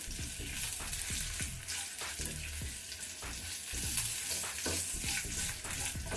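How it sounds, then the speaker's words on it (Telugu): Asafoetida with dried red chillies and green chillies frying in hot oil for a pickle, giving a steady, close sizzle with repeated stirring scrapes in a quick, uneven rhythm, no talking. "చూడండి, మనకు ఎండుమిర్చి పచ్చిమిర్చి కూడా బాగా వేగాయి."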